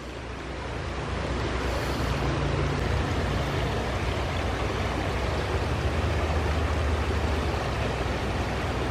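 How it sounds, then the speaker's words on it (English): A river flows in an outdoor setting, a continuous, fairly loud broadband rush with no break, steady from start to finish. "I love that sound of the babbling river."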